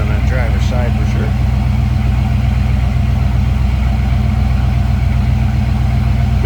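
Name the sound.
1976 Pontiac Trans Am engine running with newer exhaust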